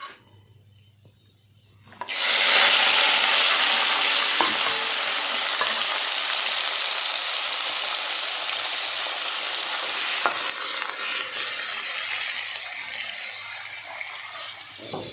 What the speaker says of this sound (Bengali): বরবটি আর ছিম কেটে রেখেছি ভাজা করার জন্য